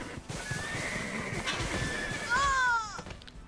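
A horse in the online game Black Desert Online lets out a single, fairly close whinny with a rising then falling squeal near the end, heard over a faint steady game background.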